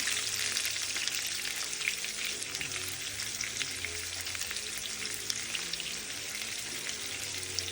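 Onion, curry leaves and green chillies sauté in a pan for drumstick poriyal, giving a steady, loud, close sizzle that hisses continuously throughout with faint stirring underneath and no voices.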